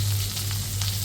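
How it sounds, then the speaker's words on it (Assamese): Pork sizzles steadily in hot oil for a chilli smoke pork dish, a loud, continuous close frying hiss with no pauses. "এনেকৈ অকণমান ফ্ৰাই কৰোঁ চাওকচোন কেনেকৈ তেল এৰিছে"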